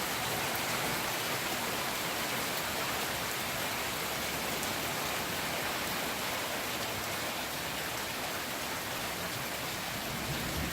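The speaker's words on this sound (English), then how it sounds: "It is really raining here right now." Heavy rain pouring steadily in a mountain area, a dense, constant hiss of water with no breaks, no thunder and no voices.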